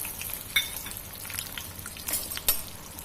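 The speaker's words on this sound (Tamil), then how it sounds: "நல்லா நெய் சூடாகிட்டு கொல்லங்கட்டை பருப்பை இதுக்குள்ள போட்டுருங்க" Lentils roast in hot ghee in a pan with a faint, crackly sizzle and a few sharp ticks and pops, close but quiet.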